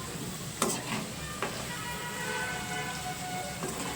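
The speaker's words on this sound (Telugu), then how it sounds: "ఇలా తుంచి వేసుకున్నామంటే మనకి సగంలో తుంచేస్తాం కాబట్టి లోపలికి కూడా ఆయిల్ వెళ్ళి బాగా ఈ ఎండుమిర్చి కూడా ఫ్రై అయిపోతాయి" Dried red chillies, torn in half, sizzle in hot oil while being stirred for a mango pickle, a steady frying hiss with a couple of sharp clinks of a spoon against the pan.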